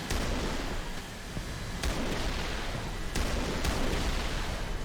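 Salvoes of unguided rockets fired from an IL-28Sh ground-attack jet in War Thunder, a dense continuous roar of launches and distant blasts with a few sharper cracks standing out, loud and steady throughout.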